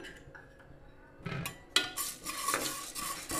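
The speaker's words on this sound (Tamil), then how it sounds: "இப்போ குக்கரில் நம்ம எடுத்து வச்சுருக்கிற இந்த பச்சை பயிரை நம்ம வறுத்து எடுத்துக்கலாம்" Green gram is dry roasted in a pressure cooker, faint scraping and clinking stirs against the metal with a few louder strokes near the end, no talk.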